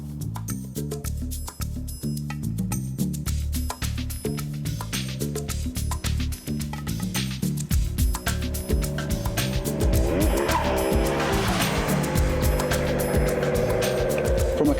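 A Ducati Multistrada Enduro adventure touring motorcycle is ridden with its engine droning loudly. The pitch rises and falls through gear changes, and wind rush builds toward the end.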